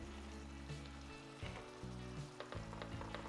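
Lobster simmering in Cajun butter in a pan for scampi, giving a steady close bubbling sizzle with brief stirring clatters and no talk.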